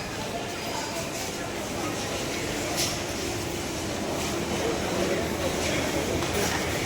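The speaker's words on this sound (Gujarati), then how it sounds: "મિત્રો એક મેટ્રો આવી ગઈ છે" A metro train pulls into a station beside the track, its low rumble and rolling noise continuous and fairly close, with a voice talking over it throughout.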